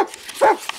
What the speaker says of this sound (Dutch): Gelukkig kunnen honden niet in bomen klimmen, maar ze kunnen wel heel hard blaffen.